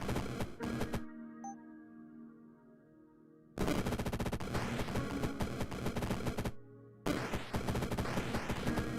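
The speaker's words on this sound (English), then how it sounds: "I just need to shoot 2 bullets" Bursts of rapid gunfire from a shooter video game, loud and dense in two long stretches separated by brief gaps, with quieter game ambience between them and no talking.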